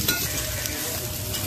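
Rice flour cake fries and is stirred on a griddle at a street food cart that has been running for 30 years in District 5, Saigon, giving a steady close sizzle with scraping throughout.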